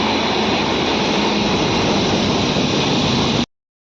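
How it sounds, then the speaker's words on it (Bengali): A special trial train on the Padma Rail Link passes through Mawa railway station, a loud, steady rushing roar near at hand that cuts off abruptly. "পরবর্তীতে উক্ত ট্রেনটি মাওয়া রেল স্টেশন থ্রু পাস করে গিয়েছে।"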